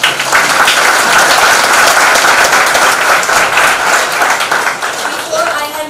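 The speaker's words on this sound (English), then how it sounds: "can we give them a round of applause, please?" Audience applause at a university convocation ceremony, a dense, steady wash of many hands clapping loudly and continuously throughout.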